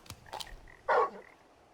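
Torgal, the dog companion in the video game Final Fantasy XVI, lets out a single short bark, loud and close, after a few soft, faint game sounds.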